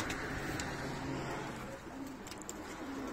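Pigeons coo steadily and close by, low repeated murmuring notes over a dense, continuous background of bird activity, with faint traffic in the distance.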